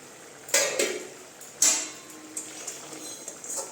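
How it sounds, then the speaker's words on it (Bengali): A pot lid is lifted off chicken cooking in a mustard gravy, giving two sharp metallic clanks followed by lighter clinks and soft clatter. The sounds are close and fairly quiet, and no voice is heard. "10 মিনিট হয়েছে, ঢাকনাটা তুলে দিচ্ছি"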